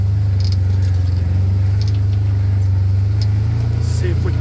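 A CFMoto UForce 1000 side-by-side climbs a rough off-road trail, its engine a steady low drone held throughout at close range, with faint scattered clatter above it.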